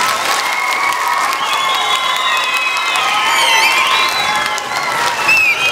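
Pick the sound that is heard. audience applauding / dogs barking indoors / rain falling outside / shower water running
audience applauding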